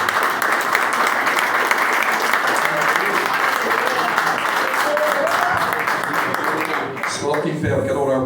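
A church congregation applauds loudly and continuously in a dense, sustained wash of clapping, with a voice briefly heard beneath it before the applause thins at the end.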